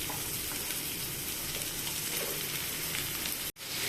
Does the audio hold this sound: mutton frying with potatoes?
yes